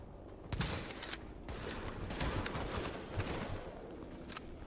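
Gunfire rings out in the shooter game Tom Clancy's The Division during an apartment mission, with several sharp shots and bursts spread over a few seconds against a busy background of combat noise.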